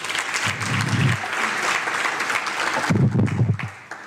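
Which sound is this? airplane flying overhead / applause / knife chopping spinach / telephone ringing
applause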